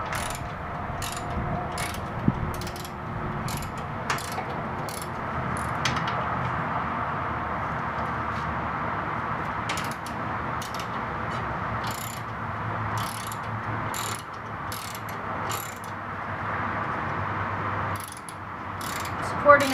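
A star socket ratchet loosens a bolt on the sissy bar of a 2016 Harley-Davidson Softail Slim FLS. Close, rapid ratchet clicks come in repeated bursts over a low steady background hum, with no talking.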